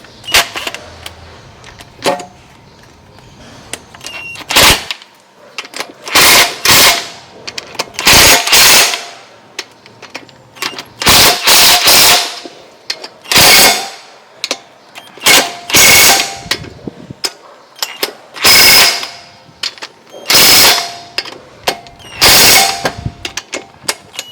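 A small power wrench works on a 2004–2009 Toyota Prius wheel hub, firing in repeated loud rattling bursts of varying length separated by short pauses, close up with no talk.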